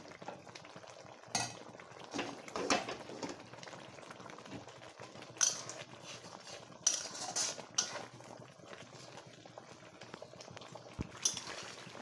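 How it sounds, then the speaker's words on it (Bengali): Spice paste frying in a pan for a chicken curry while a spoon stirs and scrapes it, soft bubbling and sizzle broken by sharp clinks and scrapes of metal against the pan, close and fairly quiet. "এখন মশলাটা সুন্দর করে কষিয়ে নিতে হবে।"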